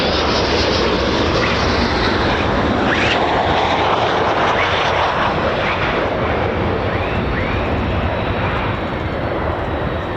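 F-15 fighter jets at RAF Lakenheath, home of the 48th Fighter Wing, produce a loud, steady broadband engine roar that fills the whole clip without letup, with no voices over it.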